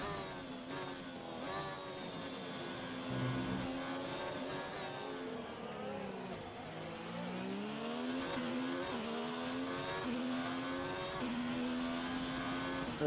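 An F1 car in the F1 2019 racing game streaks across the finish line, its engine a steady high-pitched whine with shifting harmonics as it revs and changes gear, loud and continuous throughout.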